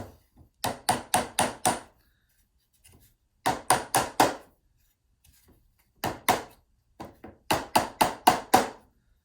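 A hammer taps on wooden canvas stretcher bars in quick bursts of four or five sharp blows, with pauses between each group, close and clear.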